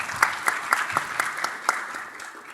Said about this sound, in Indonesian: Tepuk tangan dong teman-teman sekalian.